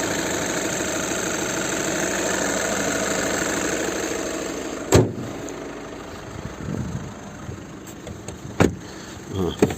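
A 2012 VW Touran with a 2.0 TDI diesel engine idles smoothly and evenly, a steady close rumble broken by a few sharp clicks and knocks near the end.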